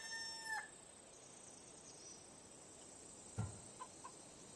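A chicken in Assassin's Creed Odyssey gives a short, faint crowing call, followed by a few quiet, scattered clucks and thumps against a soft ambient background.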